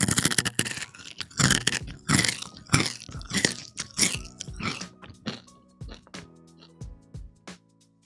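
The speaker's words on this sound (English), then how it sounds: "It's like earth-shattering crunch." A rapid string of loud, close bites and chews on crunchy potato chips. The crackling bursts come densely at first, then thin out to a few sparse crunches. No talking.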